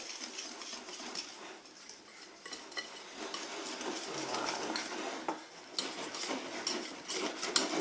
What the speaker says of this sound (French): Après, vous mélangez forcément.